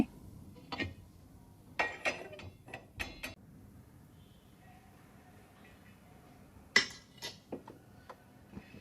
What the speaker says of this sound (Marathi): इथे मी तवा गरम करायला ठेवते.